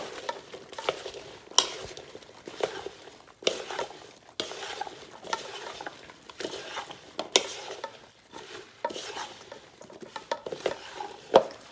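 A spoon stirs roasted vegetables and Italian sausage together in a bowl, giving a steady run of soft scraping, clinking and squelching strokes in an uneven rhythm, close and moderately loud, with no talking.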